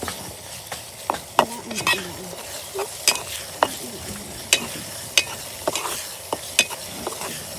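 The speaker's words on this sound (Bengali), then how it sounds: "আর এখানে আমার তেলটি গরম হয়ে আসছে, এখন দিয়ে দিচ্ছি কুচি করে রাখা পেঁয়াজ" Chopped onion, ground chili paste, turmeric and chili powder frying in hot oil, a steady soft sizzle under repeated sharp scrapes and clinks of a spoon stirring the pan at close range.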